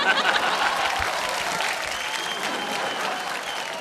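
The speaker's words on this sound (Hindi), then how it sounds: "तालियां भाई" Steady, dense applause from a television singing-show audience, continuous and fairly loud from start to finish, with a faint voice underneath.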